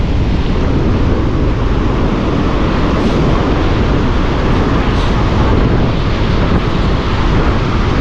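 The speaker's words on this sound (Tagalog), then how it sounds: "Ang malalaki naman ay ang alon." Big ocean waves and strong wind roar in a constant, loud, dense wash, with wind buffeting the microphone heavily the whole time.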